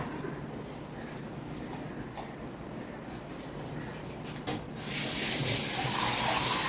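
An iron pan scrubbed by hand during washing, with a steady rasping scour that grows louder and brighter toward the end, with no voices.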